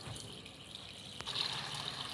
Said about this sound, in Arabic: هسه افتح المي حار عليه أخليه يموع.